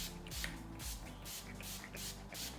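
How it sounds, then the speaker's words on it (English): Makeup setting spray is misted onto a face in a series of short, soft hissing bursts, several quick spritzes with light handling noise between them, close and quiet. "I'm going to spray this on my face first"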